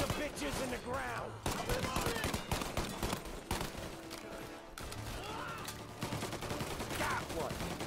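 Dense gunfire in the video game Mafia: Definitive Edition, a near continuous barrage of shots and crashes under shouting voices, loud throughout the firefight.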